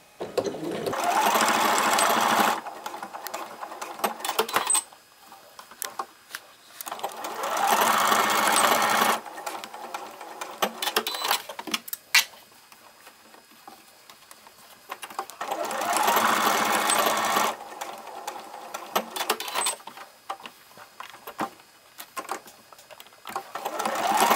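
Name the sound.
sewing machine stitching elastic onto fabric mask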